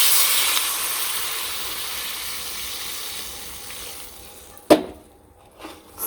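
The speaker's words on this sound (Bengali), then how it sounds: "এখন দিয়ে দিব হলো ঝোল।" Broth poured into a hot pan of soybean curry sets off a loud hissing sizzle that slowly fades. A few sharp knocks of a utensil against the pan follow near the end.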